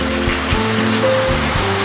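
Rain falls steadily as a dense, even wash of hiss close by, with a few faint low thumps under it.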